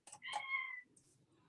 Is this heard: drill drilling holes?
no